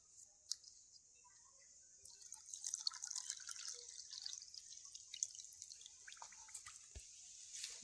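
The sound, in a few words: water poured onto semolina in bowl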